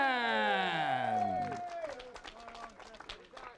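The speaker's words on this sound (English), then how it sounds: "A big round of applause from Brisbane" Crowd at an Australian RC buggy championship final applauds; a voice speaks first, then scattered claps and crowd noise follow at moderate distance.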